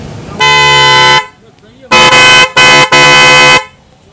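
A car pressure horn blares at a busy Sunday car bazaar, very loud and brassy, with one long blast followed by a sequence of three sharp toots.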